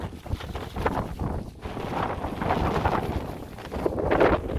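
Steady, rough wind buffets the microphone in gusts in fog on the mountain Hoverla, a constant loud roar with no voices.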